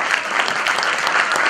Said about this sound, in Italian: Fategli un applauso.